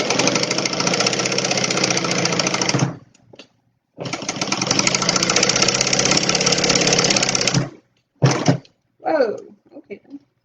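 Sewing machine stitching a Stella Weekender bag, running in two long steady bursts of rapid mechanical whirring, then short stops and starts, close and loud.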